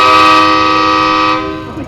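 A stage musical's train horn effect blares loud and close in one sustained, steady chord-like blast that fades out over about a second and a half, with no voices.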